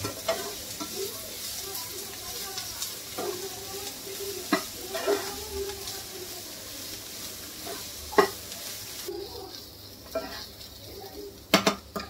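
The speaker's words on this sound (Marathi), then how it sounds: "शिमला मिर्च ती पण बारीक करून घेतली मी। आता हे नरम होईपर्यंत भाजून घेऊया।" Chopped capsicum and onion sizzle in a pan while a spatula stirs them, a steady frying hiss broken by repeated scraping clinks against the pan, close and clear with no voices.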